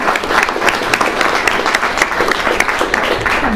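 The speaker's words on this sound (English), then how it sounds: "Round of applause for Valerie." Wedding guests applaud together in a steady, dense burst of clapping that fills the room from start to finish, loud and close, with no talking over it.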